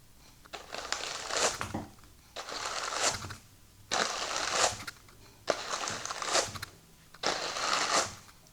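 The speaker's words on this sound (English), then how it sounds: "And then hand card it starting at the edge." Sari silk fibre worked on hand carders, heard as five steady rhythmic rounds of dry, scratchy brushing strokes, each lasting about a second with short pauses between, close and fairly quiet.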